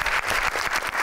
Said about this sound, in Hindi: मेरीन के लिए तालियां।